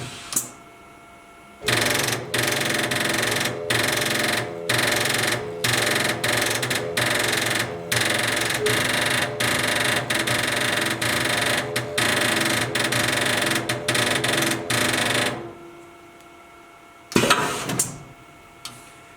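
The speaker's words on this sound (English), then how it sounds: "marking was started automatically when I lowered the marking head" An MD2 marking machine marks an assembly with a loud, steady mechanical chatter that runs for about fourteen seconds in rapid pulsing bursts. Then it stops abruptly, and a brief clunk follows as the marking head lifts.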